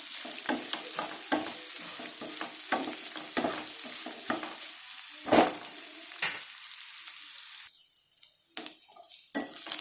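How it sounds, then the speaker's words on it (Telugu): Onions fry in a pan for bitter gourd fry, a quiet sizzle punctuated by irregular spoon scrapes and one louder clank, easing toward near silence before a few final stirs. "ఉల్లిపాయలు వేగిపోయినాయండి."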